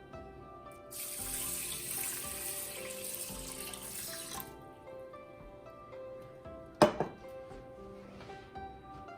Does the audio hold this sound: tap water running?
yes